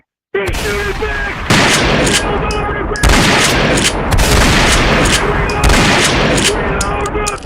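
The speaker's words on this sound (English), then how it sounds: "He's shooting back! He's shooting back!" Rapid gunfire erupts and continues as someone shoots back, loud close bursts of repeated shots in an uneven stream with sharp cracks, lasting several seconds.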